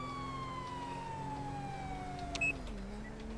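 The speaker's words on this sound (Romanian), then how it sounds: "S-a oprit sirena." Police car siren from the GTA V video game, a steady wailing tone sliding slowly downward and dropping off near the end, with a brief click partway through, over constant background hum.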